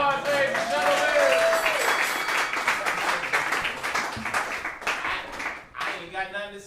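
A comedy club crowd at a New York roast battle breaks into loud, dense applause that gradually thins out, with a voice speaking over the clapping near the end.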